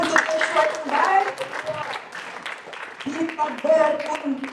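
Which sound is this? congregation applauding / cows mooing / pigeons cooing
congregation applauding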